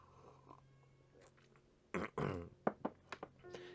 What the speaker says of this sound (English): That poor cat is going to be hoarse by the time we're done with this.